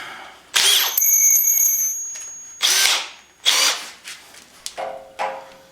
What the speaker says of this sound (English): Well, I just sharpened this drill bit, so let's see what happens.